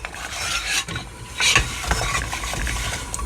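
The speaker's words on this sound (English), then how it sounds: "So I'm going to start stirring." Wooden spoon stirring chopped apples in a pot, a continuous scraping, rubbing sound up close with brief louder scrapes against the pot, and no talking.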